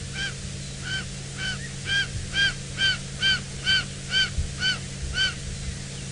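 A young bird of prey gives a series of harsh, rhythmic squawks, about ten calls in quick succession, fairly close over faint background hum.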